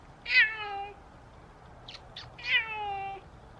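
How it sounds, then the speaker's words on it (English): Two loud, drawn-out cat meows close by, separated by a pause with a couple of faint short noises, against quiet background hum. "You probably definitely heard the cat's meows because it was very loud."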